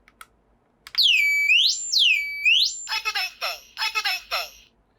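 A loud standalone residential smoke alarm close by: two long rising-and-falling electronic wails, then rapid pulsing beeps in bursts.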